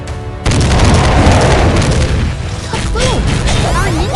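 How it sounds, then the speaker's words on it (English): A cartoon explosion in a kids' jungle safari doors game bursts out as a sudden loud boom, followed by a rumbling fade and a few squeaky, playful effect tones. "Our ninja hero saved the day with an epic explosion."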